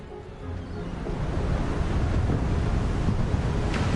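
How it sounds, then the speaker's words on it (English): Ocean waves crashing in the Hogwarts Legacy game on PS5, a steady loud roar of surf and wind that swells slightly and continues without talking. "The sound of the waves crashing though is incredible."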